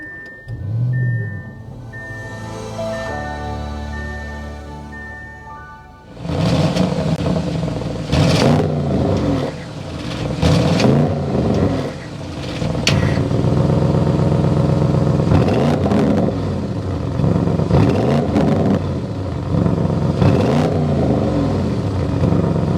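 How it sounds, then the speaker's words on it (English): A 2024 Audi RS6 Avant performance wagon fires up after a quiet interior hum, its engine catching with a loud burst and then settling into a deep, throaty exhaust burble with repeated sharp revs, close and without talk. "start it up so you can hear that exhaust note"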